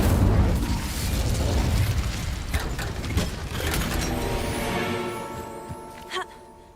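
Incendio fire spell cast in the Hogwarts Legacy video game, a loud burst and whooshing blast of game effects with rumbling low end, followed by fading tonal shimmer and a short pop near the end.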